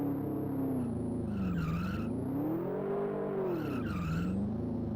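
Synthesized car tire squeal from a stock car racing video game on an Amiga 1200, a continuous pitched screech that rises and falls in long sweeping bends over a steady engine drone.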